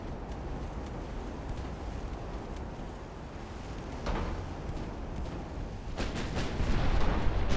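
Naval guns fire during a battle between early 20th-century warships in Ultimate Admiral: Dreadnoughts, with distant booming shots rising out of a steady roar of wind and sea, growing louder and more frequent toward the end.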